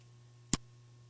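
A single sharp computer mouse click, close and fairly faint against a steady low hum, with no talking.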